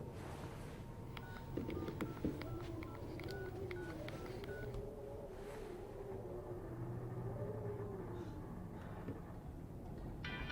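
Telephone keypad tones beep in quick succession, short bright dial tones over a low background hum and rumble, followed by a faint steady tone, all from a horror film scene.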